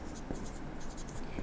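Numbers are written by hand during a maths lesson, with close, continuous scratchy pen or chalk strokes running throughout, faint speech mixed underneath.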